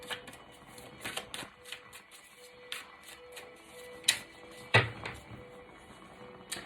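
A tarot card being drawn from a deck: a couple of crisp, close card snaps and slides standing out from soft, low background rustling and faint ticking, with no voices.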